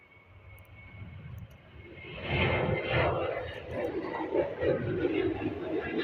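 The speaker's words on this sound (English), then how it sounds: "We've got FR1964 heading over to Eindhoven. It's a Boeing 737 operated by the best short-haul airline in Europe" Ryanair Boeing 737 jet at Dublin Airport, a distant engine roar that swells after a couple of seconds and holds steady, with faint background chatter.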